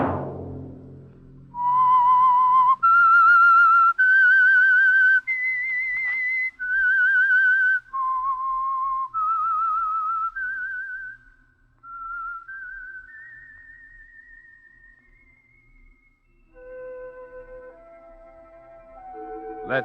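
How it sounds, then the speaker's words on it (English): A loud, clear whistled melody, long sustained notes stepping up and down, followed by a quieter descending phrase of whistled tones near the end. "Let that whistle be your signal for the Signal Oil program"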